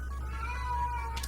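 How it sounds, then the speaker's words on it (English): A pet cat meows once in the background, a drawn-out, wavering cry heard faintly against a low steady hum from a room where a video game is being played. "that's my cat in the background"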